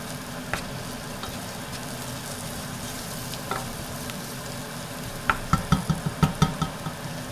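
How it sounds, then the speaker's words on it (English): Roux of butter and flour sizzles quietly in a pan on the stove while being stirred, with a soft steady hiss, a few light scrapes and a quick burst of spoon knocks near the end. "the roux is starting to brown a little bit, which is perfect"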